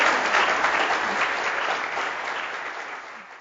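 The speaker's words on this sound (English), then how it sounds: "So big round of applause for my panel." Audience applause for a panel at a developer event, a dense steady clapping from a crowd that starts full and slowly tapers over a few seconds, with no talk over it.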